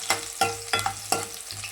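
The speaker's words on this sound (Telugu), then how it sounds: "ఎందుకంటే ఫ్రై చేసుకుంటున్నాను కాబట్టి జస్ట్ ఆనియన్స్ మాత్రమే వేసుకుంటున్నాను." Onions frying in a pan for cauliflower fry, a close sizzle broken by four or five sharp scraping stirs of a spatula in an uneven rhythm, moderately quiet with no voices.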